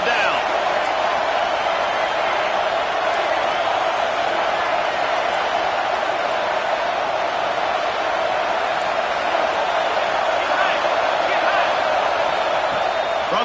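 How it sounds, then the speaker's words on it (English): Steady, dense stadium crowd roar from an American football video game on a third-down defensive play, holding loud and even throughout with no pauses. "Decibels rising as the crowd gets behind this defense on 3rd down."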